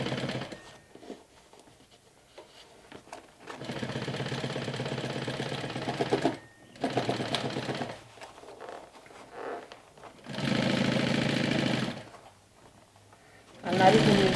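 A sewing machine stitches a fabric mini backpack in steady whirring runs of a few seconds each, separated by pauses, with a person talking in between.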